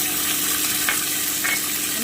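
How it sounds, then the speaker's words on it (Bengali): Almonds frying in hot oil in a pan for khichuri, a steady close sizzle and crackle with a couple of brief stirring scrapes, no voices. "এবারে আমি বাদামটা ভেজে নিচ্ছি"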